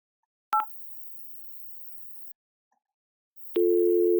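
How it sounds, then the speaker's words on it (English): A dial-up modem dials a real phone number: a short burst of dialing tones, a steady hiss, a pause, then a loud sustained negotiation tone begins. "that's the modem dialing an actual phone number"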